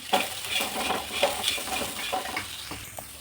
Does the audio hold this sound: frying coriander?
yes